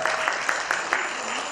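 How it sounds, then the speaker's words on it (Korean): Quiet, steady rhythmic clapping from a small audience at a band performance in a music academy, about seven evenly spaced claps over a low background hum. "박수 많이 부탁드리겠습니다."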